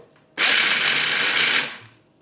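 A blender grinds nuts into nut butter in a loud, steady high whir that starts abruptly, holds for just over a second, then winds down, close by with no talk.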